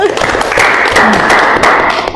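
Students in a university group counseling session burst into loud, close applause, a dense wash of clapping with voices overlapping throughout.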